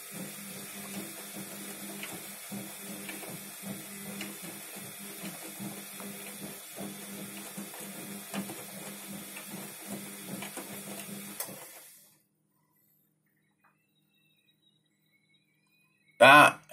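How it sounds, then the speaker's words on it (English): The heater of a Bosch Exxel 7 washing machine runs during a wash cycle with mixed-brand detergent and Lenor, giving a steady hissing, humming drone for about twelve seconds before cutting out, then a brief loud knock near the end. "That heater in this washing machine is so loud."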